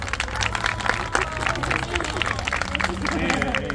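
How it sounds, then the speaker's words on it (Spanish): Audience clapping for the third contestant at a Jalisco contest for the most Mexican grito, a continuous rattle of hands blended with crowd chatter and some talk throughout. "Tercer participante, un aplauso,"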